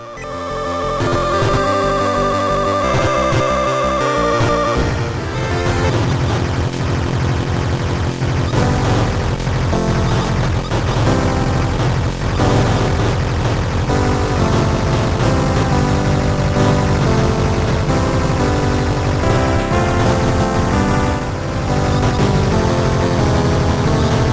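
Sound effects from the PC Engine port of the Truxton shoot-'em-up, starting as sparse tonal chiptune blips, then a steady, loud, dense wash of buzzing explosion and fire noise carrying on alone for about twenty seconds.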